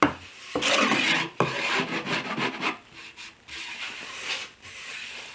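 A hand file's edge rasps across wood while building a shelf, several loud, close scraping strokes in an uneven rhythm with short pauses between them.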